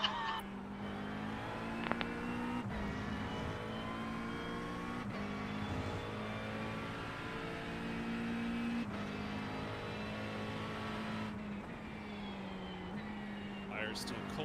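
McLaren 720S GT3 race car in a racing game at Interlagos, its engine droning steadily with rising and falling pitch through gear changes, loud and continuous throughout, with a brief high squeal near the end.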